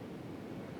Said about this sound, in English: And this is a waterfall